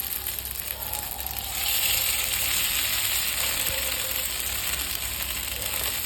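Sabudana potato tikki fry in a pan with very little oil, giving a steady, close hiss of sizzling that swells slightly louder after the first couple of seconds and continues evenly, with no voices.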